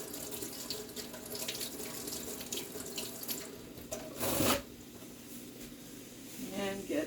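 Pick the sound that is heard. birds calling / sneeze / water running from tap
water running from tap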